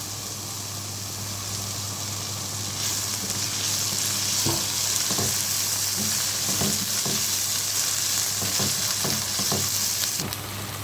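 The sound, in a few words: onions frying in oil in a pan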